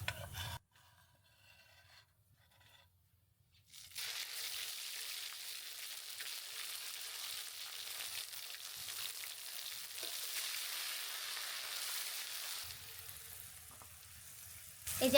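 Bay leaves and garam masala dropped into hot oil, then onion, ginger-garlic and cumin pastes added, giving a loud, steady close sizzle and hiss that holds for several seconds after a brief quiet start, with no talk.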